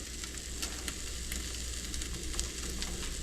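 Pancake batter sizzles steadily in a hot pan at medium heat, a soft continuous frying hiss with faint crackles and no voices.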